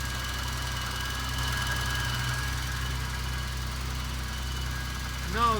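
A BMW E32 engine idles steadily after an injector rebuild, a continuous low rumble with a faint whine running through it and a brief louder rise near the end.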